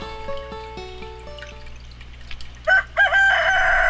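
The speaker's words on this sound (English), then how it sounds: "Rooster! I didn't really have chickens," A rooster crows in the farming video game Stardew Valley: a short chime jingle plays, then a clear, loud cock-a-doodle-doo rises near the end.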